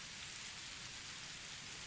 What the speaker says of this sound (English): A drizzling rain has replaced a chilly wind.